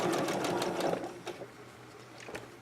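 Sewing machine stitching a pillowcase seam, a close, steady motor whir for the first second that slows and fades into quieter bursts of stitching.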